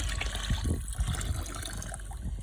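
Water gurgles up from a freshly drilled well. The bubbling is close, low and irregular, with uneven glugs and splashes and no voices over it.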